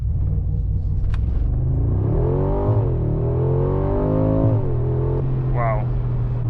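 A 2025 Mercedes-AMG G63 SUV launches in Sport Plus with launch control, its engine rumbling low and then climbing in pitch through gear changes, loud and close, with brief voices underneath.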